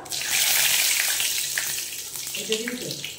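Whole bay leaves drop into hot oil already holding cumin seeds and asafoetida, setting off a loud, bright sizzle that slowly softens, with a light clatter near the end.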